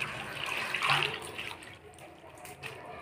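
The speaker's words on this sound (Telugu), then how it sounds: "ఫస్ట్ ఈ నీళ్ళల్లో కడిగేసి మళ్ళీ ఈ నీళ్ళల్లో కడిగేసి" Fresh spinach leaves are rinsed by hand in a vessel of water for palak paneer, giving a close swishing and splashing that swells briefly and then settles into softer trickles.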